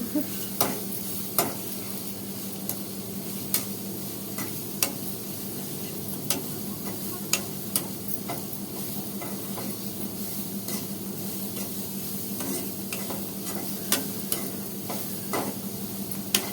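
A spatula stirs carrot fry with egg in a pan over a low, steady sizzle, sharp scraping clicks recurring every second or two.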